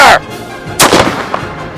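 A cannon fires once with a sharp, heavy blast at the very start, then a short echoing decay and faint outdoor rumble.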